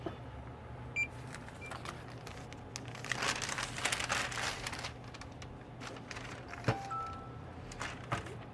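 At a liquor store checkout counter, a plastic bag crinkles and rustles in irregular bursts. Faint register beeps and background store noise run under it.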